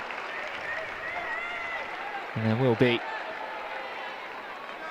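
A stadium crowd at a women's football match between Aston Villa and West Ham United applauds a substituted player, a steady distant wash of clapping beneath a commentator's voice.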